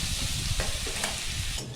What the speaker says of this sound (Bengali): পেঁয়াজটা একটুখানি লাল লাল করে ভাজা করবো